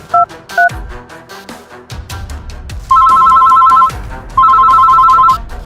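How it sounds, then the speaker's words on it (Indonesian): A telephone rings at night, its electronic tone arriving in two long repeated bursts after a few short beeps and clattering knocks, loud and close with no talking. "Siapa malam-malam gini telepon?"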